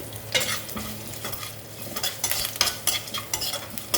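Curry leaves and garlic fry in hot oil, with a constant crackling sizzle and scattered bursts of spatter as they are stirred, close and moderately quiet with no talking.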